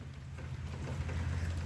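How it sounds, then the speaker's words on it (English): Rain falling on the roof of a 2022 Prowler 250 BH camper with a leaking roof: a steady, even hiss of drops drumming continuously, moderately loud and with no voices. "As you can see, it's raining."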